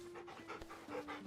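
A dog panting in the video game Final Fantasy XVI, quick rhythmic breaths in a short close burst, faint and alone.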